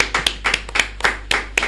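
Clapping from a small audience at a talk, a handful of separate sharp hand claps in an irregular rhythm over an ongoing low hum.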